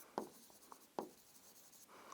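Pen or marker writing a number on a board or page while working a Class 10 maths problem: two sharp taps with short scratchy strokes between them, close and fairly faint, with no talking.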